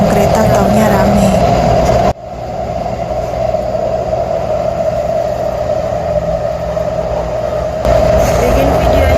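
Steady rumbling hum of a moving MRT metro train in Taiwan from inside a crowded carriage, with a constant tonal drone and a sudden dip as the sound shifts partway through.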